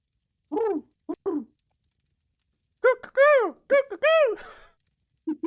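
A woman imitates bird calls through cupped hands, a few short hooting whistles followed after a pause by a longer run of warbling notes, close and clear.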